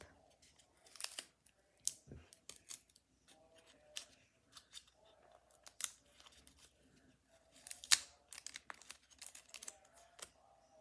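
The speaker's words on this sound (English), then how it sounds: "I like the sound of tape." Adhesive tape is pulled and ripped off the back of a paper art surprise bag in a series of sharp, close, separate rasping bursts with quiet gaps between them. No one speaks.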